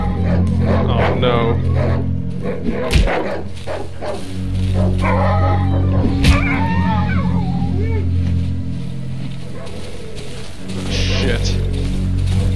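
Dangerous dogs in the survival horror game Darkwood, growling and barking in scattered bursts amid a low rumbling backdrop, with sharp hits at intervals and a person talking over them.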